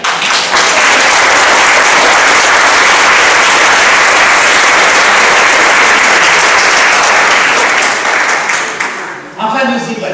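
At an association gathering, a large crowd claps loudly and densely in a long, sustained ovation that fades near the end as a voice starts speaking.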